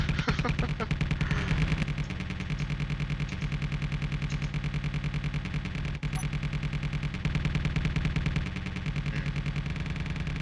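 Ship-mounted guns in the space combat game Space Engineers fire in a sustained rapid burst, a dense, loud mechanical rattle that hammers on steadily over an engine-like drone with no pause.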